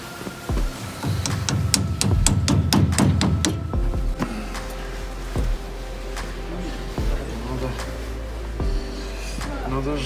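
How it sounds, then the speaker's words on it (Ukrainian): A small hammer taps rapidly on metal parts of an OVS-25 grain-cleaning machine, a quick run of sharp ringing strikes, followed by scattered knocks and a low hum. "Молоточек маленький."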